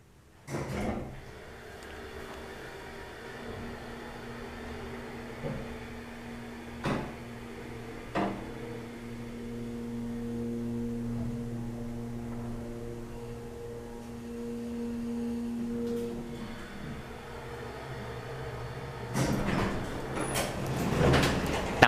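A 1994 Kencor hydraulic elevator at an art museum, its motor running with a steady low hum after several clicks and door-like thumps, then louder mechanical clatter near the end as the ride stops.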